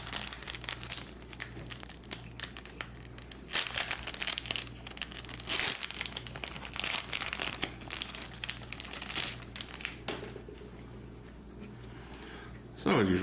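A trading card collector booster pack's foil wrapper crinkles and tears open in repeated rustling bursts up close, with a person talking over it.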